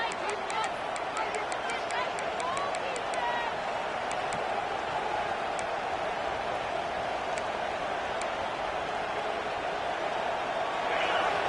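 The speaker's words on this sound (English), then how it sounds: "this crowd coming to life here, trying to help the defense get a stop with the offense pinned back" Stadium crowd in an NCAA football video game, West Virginia vs UCF, a steady broad roar of cheering and babble running the whole time with some faint clicks at the start.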